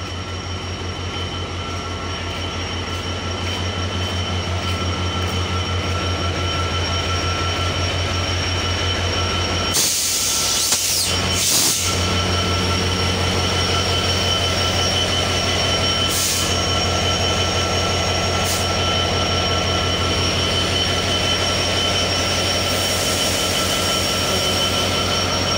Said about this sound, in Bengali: ডিরেক্ট সরাসরি 66-35 লোকোমোটিভ নিয়ে তিতুমির এক্সপ্রেস